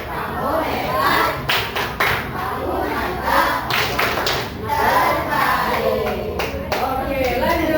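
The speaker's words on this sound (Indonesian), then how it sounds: "kasih tepuk hebat buat kelompok 5" A classroom of students performs a rhythmic cheer clap for group 5, a dense, loud run of patterned clapping with shouted chant voices mixed in, close and continuous.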